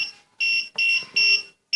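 A counterfeit note detector machine beeps four times in a quick, uneven rhythm, each high electronic tone loud and close, with another beep starting at the end.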